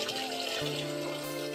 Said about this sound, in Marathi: इथं पप्पा दुसरी टाकी भरताय